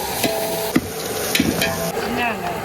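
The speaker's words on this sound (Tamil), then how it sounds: "வெங்காயம் பொன்முருள் அடிச்சு இஞ்சி பூண்டு போடுறேன்" Onions with ginger and garlic fry in a pan for mutton nonbu kanji in an outdoor country kitchen, with a steady close sizzle and a few sharp spoon clinks and scrapes against the pan.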